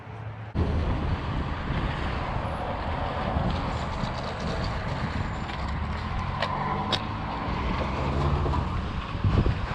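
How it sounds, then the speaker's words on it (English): Steady wind roars outside a parked car at night, a broad continuous rush with gusty buffeting against the microphone, no voices. "It's a little windy out here."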